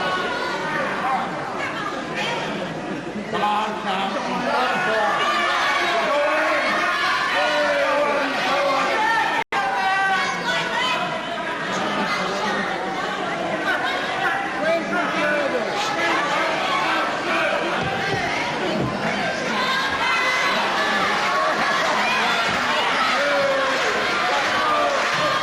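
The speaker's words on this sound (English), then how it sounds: "Crowd here at the Fairfield Halls don't like it too much." A crowd at a wrestling show in the Fairfield Halls murmurs and jeers with a restless, steady babble. A commentator speaks over the noise the whole time.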